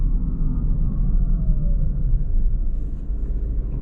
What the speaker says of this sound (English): let's put into sport mode, and see how quick this Ford Escape can accelerate